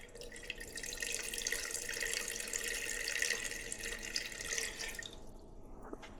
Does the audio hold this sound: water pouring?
yes